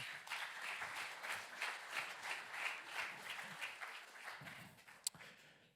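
A church congregation applauds steadily during a French Sunday service, sustained rhythmic clapping with light cheering, fading toward the end with a single sharp knock.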